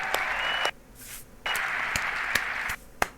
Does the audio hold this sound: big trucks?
no